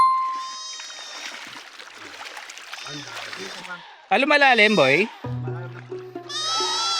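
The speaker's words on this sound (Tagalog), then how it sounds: "Tinatawag tayo ng kambing." A goat bleats loudly and close by on an outdoor adventure near water, a wavering cry in the middle followed by further bleats, with people talking around it.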